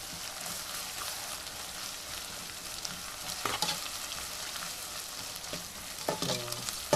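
Onions with ginger garlic paste and salt frying in a pan for chicken pulao make a soft, steady sizzle, broken by a few sharper scraping stirs and clinks toward the end.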